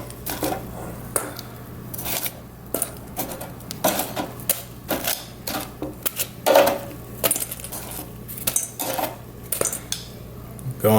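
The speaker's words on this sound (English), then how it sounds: "So I'm gonna just throw my wings in here." Chicken wings clatter and rattle in a bowl of garlic and pepper hot sauce, a busy run of close, sharp knocks and scrapes like dishes being jostled, continuing steadily throughout.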